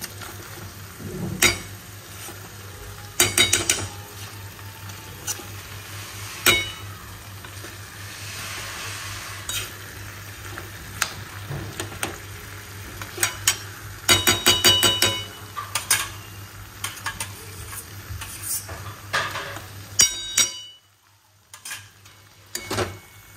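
A spoon scrapes and clinks against a pan as a dish is stirred and fried in ghee, with soft sizzling underneath and irregular metallic knocks spread through the clip before it fades out near the end; nobody talks.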